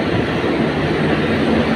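The Nilsagar train stands at a railway station, heard as a loud, steady rumble of rail cars and engine noise filling the scene without pauses or voices.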